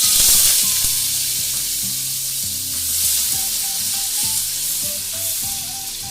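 Potatoes sizzle steadily in a hot pan with cumin seeds, a continuous close frying hiss with occasional stirring scrapes, no voices.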